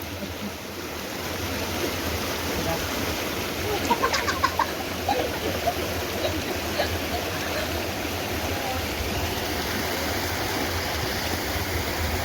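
A river stream in a village rushes in a steady, broad wash that fills the whole stretch, with faint bird or chicken calls briefly rising above it near the middle.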